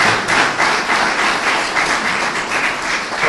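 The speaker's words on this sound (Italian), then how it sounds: "Io vi chiedo di fare loro un applauso" Dense, continuous applause from an audience filling the room at the opening of an election campaign office in Fossacesia, loud and steady throughout.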